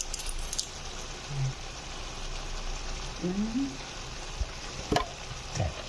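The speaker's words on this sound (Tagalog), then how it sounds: "atin siyang haluin" Igado, a pork-and-liver stew seasoned with bay leaves, is stirred in a cooking pan over a steady close sizzle and bubble, with a few scraping and clattering touches of the spoon against the pan.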